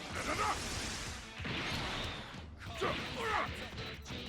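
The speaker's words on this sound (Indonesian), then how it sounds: "Kartu dia hancur, Dragon Ball dia hilang." Cards are destroyed in the mobile fighting game Dragon Ball Legends, with dense, loud crashing and smashing effects in repeated bursts, swooshes layered through a busy wash of game audio.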